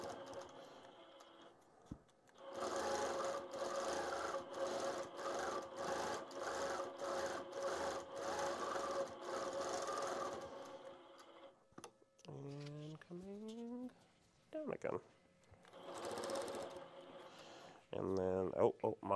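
A quilting machine stitches in a rhythmic series of pulsing runs, steady and fairly close, pausing between bursts while a person talks nearby, at a live freehand and computerized quilting event.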